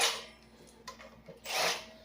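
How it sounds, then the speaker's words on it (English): A hand drill countersinks holes in a 24-inch concrete saw blade, giving short, faint bursts of whirring and grinding with a louder stretch near the end, separated by quieter pauses. "we'll flip this over and hit this with a hand drill and just countersink these"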